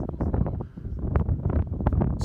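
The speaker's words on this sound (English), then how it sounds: "I'm guessing 40-degree wind blowing up this hillside" Strong wind blows up a high mountain hillside on the Black Bear Pass Jeep trail, buffeting the microphone with loud, gusty rumbling and roaring bursts at close range.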